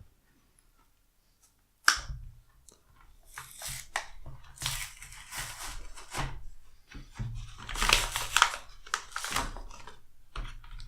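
A Magic: The Gathering booster pack wrapper is torn open up close and quiet. After a silent start, a sharp snap is followed by a run of crinkly rustling and tearing foil-plastic sounds.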